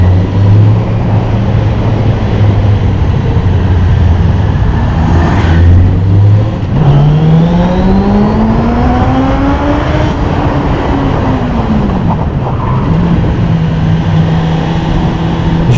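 A Suzuki GSXF 600 motorcycle accelerating hard, its engine note climbing in pitch through several gear changes and then settling into a steady drone, loud and close with constant road and wind rush underneath.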